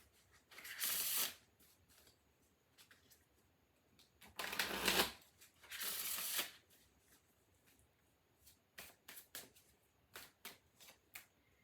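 A deck of Vampire Tarot cards is shuffled in three loud riffling bursts. Quieter taps and snaps follow as single cards are pulled and laid down, close and quiet, with no talking.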